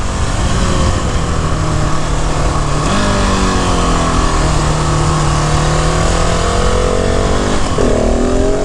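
A 2020 KTM 690 SMC R supermoto's single-cylinder engine while riding, loud and close, droning steadily with rising and falling revs through gear changes, with no talk over it.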